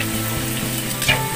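Pancit canton noodles with soy sauce stir-fried in a pan, a dense steady sizzle with scraping stirs and small clatters close by.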